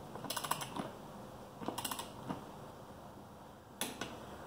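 Torque wrench working around beadlock rim bolts set to 20 foot-pounds, giving three brief clusters of quick ratcheting clicks, close but faint against a quiet background.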